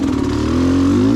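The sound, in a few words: enduro motorcycle engine at low revs on hill climb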